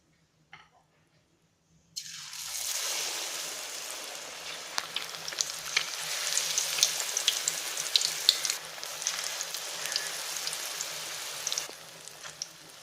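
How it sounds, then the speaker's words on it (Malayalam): Batter-coated egg pieces for mutta bajji dropping into hot oil: near-silence, then a sudden burst of vigorous bubbling sizzle that stays strong and crackly for about ten seconds before easing off, close and without talk. "മുട്ടയുടെ ഓരോ പീസും മാവിനകത്തിട്ട് നന്നായിട്ട് മുക്കി നമുക്ക് പൊരിച്ചെടുക്കാം"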